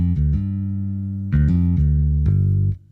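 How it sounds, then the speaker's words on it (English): Electric bass plugin triggered on an Akai MPC X: a short repeating bass line of low sustained notes with a few brighter plucked attacks, close and loud, alone with no talking. "sound of electric bass, sound of that instrument."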